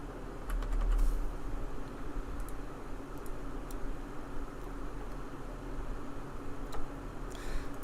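Computer keyboard typing, a scattering of light irregular clicks over a steady background hiss, close but faint, with no talking.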